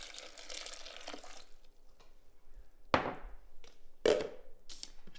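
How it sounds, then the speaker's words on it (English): Water poured into a mini Instant Pot while making beef chili, heard as splashy pouring bursts and a couple of sharp liquid splashes against the pot, fairly close and without talk. "And put our 2 cups of water."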